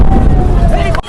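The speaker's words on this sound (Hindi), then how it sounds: "तभी एक ऐसा जोरदार धमाका होता है" A loud bomb-blast explosion sound effect booms with a heavy low rumble and a sustained roar that cuts off abruptly at the end, close and dominant.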